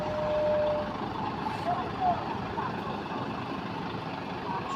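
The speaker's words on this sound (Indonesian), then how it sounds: "Sudah berhasil mundur sang trailer ini" A loaded Volvo trailer truck grinds backward up a slope with a steady low engine rumble, a faint reversing beep and occasional thumps, mostly alone and nearby.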